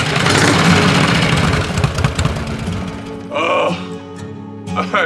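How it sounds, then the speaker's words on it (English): A Harley-Davidson motorcycle engine idles with a loud, steady low rumble, joined by people talking and a few brief louder bursts toward the end. "Max, this bike is insane."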